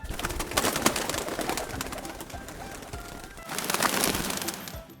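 A pigeon coos amid loud flapping and rustling, with dense broadband fluttering bursts and faint throaty calls beneath, close and steady throughout.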